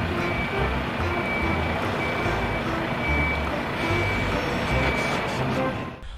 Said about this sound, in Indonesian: Wow, lihat, masih ada mobil truk molen.